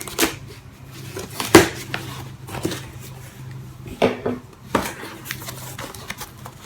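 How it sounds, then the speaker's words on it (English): Buck knife slicing open a packed cardboard shipping box, a few sharp scraping cuts and tapes tearing, with light clattering handling noises between, close and fairly quiet. "So let's open using my buck knife."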